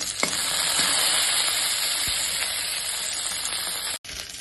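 Five or six torn curry leaves fry in oil for a snake gourd stir-fry, a loud, steady hiss and sizzle with a few pops, cut by a brief dropout near the end, no voices.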